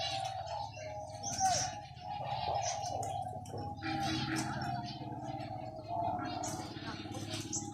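Birds coo and chirp in an aviary, with soft cooing and scattered tweets, while people talk quietly in the background.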